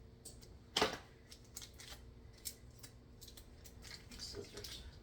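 Scissors snipping close up, one sharp loud cut followed by several quieter clicks and snips in an otherwise quiet room.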